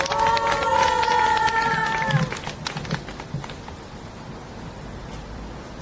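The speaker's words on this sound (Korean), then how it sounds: "뜨거운 박수를 부탁드리겠습니다. 박수!" An audience at a civic forum applauds and cheers, with dense clapping and shouts that fade to scattered claps, while a voice speaks over the start.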